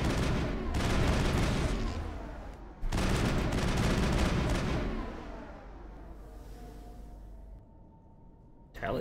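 Rapid bursts of shotgun and weapon fire in the game Mass Effect, loud and dense, separated by brief pauses, with a voice talking faintly beneath the gunfire.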